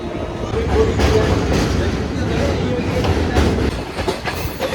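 The Kolkata–Haldibari Superfast Express runs at speed. From inside the carriage comes a steady loud rumble with rhythmic clattering of the wheels, under a voice talking.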